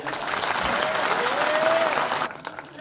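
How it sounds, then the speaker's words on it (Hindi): An audience at a comic Hindi poetry recital (kavi sammelan) breaks into steady, dense applause, heard close and fairly loud, with a faint tonal whistle-like sound riding over the clapping before it tapers off. "एक बार आपकी घंघोर तालियां उन्हें बधाई दें।"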